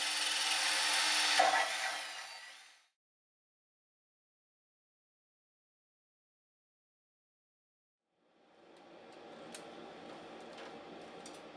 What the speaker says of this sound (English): that means drilling a new set of screw holes in order to attach the outside air adapter